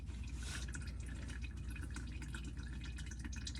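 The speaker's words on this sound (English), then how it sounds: "now you'll see that it's dripping a little bit" Engine oil drips and trickles from the drain of a 2019 Honda Civic LX, a faint, steady, continuous liquid patter with no talking.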